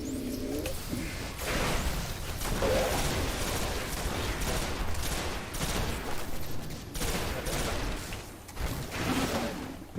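Rapid gunfire bursts from the video game Destiny rattle in repeated volleys over a steady background hum, loud and continuous with brief pauses and no talk.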